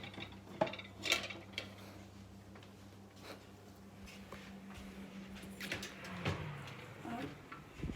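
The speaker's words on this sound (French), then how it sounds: "vous allez enfourner sur la grille votre four" A cake tin for a four-quarter cake slid onto the metal rack of a home oven, with a few light clanks and a scraping metallic slide near the end, over a steady low oven hum.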